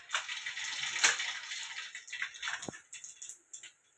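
Mustard seeds hit hot oil in a pan while tempering a spicy misal, giving a dense, bright crackling sizzle with scattered sharp pops over about four seconds, near and moderately loud, with no talking.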